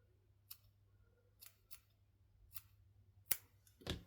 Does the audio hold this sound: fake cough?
no